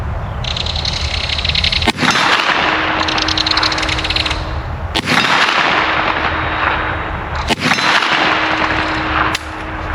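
A Kel-Tec Sub2000 Gen 3 carbine fires at an outdoor range: several loud, sharp reports spaced a few seconds apart, each followed by a ringing metallic clang of steel targets over steady background noise.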